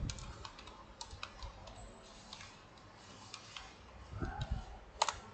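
Keys tapped on a computer keyboard while a file is saved to the desktop, soft close clicks scattered irregularly, then a sharper, louder keystroke near the end as Enter is pressed, with no speech over it.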